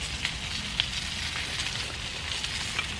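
Sausages and black pudding frying in a pan, a steady close sizzle and crackle with faint pops, alone without talk.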